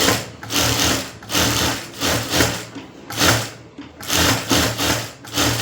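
A sewing machine stitches the lining of a blouse, running in several bursts with short pauses between them, close and fairly loud with no talk.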